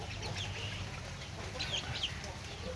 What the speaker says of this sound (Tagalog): Yan yung ating mga sisiw.